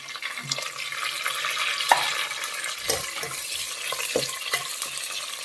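Garlic, onions and green chilies fry in oil for Telugu mudda pappu made with toor dal. A soft sizzle runs under scattered clacks and scrapes of a spoon stirring in the pan.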